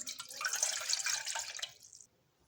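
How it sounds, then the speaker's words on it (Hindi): A glass of water pours into a saucepan, a bright splashing trickle that runs for about a second and a half, then stops abruptly, leaving near silence. "कोई भी आप देखिए सॉस पैन लीजिए, उसमें आप डालें 1 गिलास पानी।"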